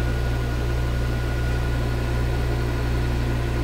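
A metal lathe with an imperial lead screw spins at about 650 RPM while taking a light cut, giving a loud, steady, unbroken mechanical hum and whir with no pauses.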